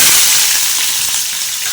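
Mustard seeds, cumin, garlic and onions fry in hot oil in a pan, giving a loud, dense, continuous sizzle and crackle that eases slightly toward the end.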